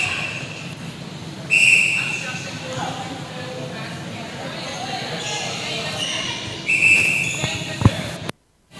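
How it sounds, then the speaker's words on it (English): An umpire's whistle cuts through twice at a netball match between Dominica and Grenada, sharp shrill blasts over crowd noise and ongoing commentary. "A few whistles at this point into Grenada."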